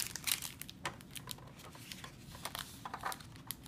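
Cellophane treat bag being handled for a Halloween pencil party favor, giving soft, scattered crinkles and rustles at close range with no voices.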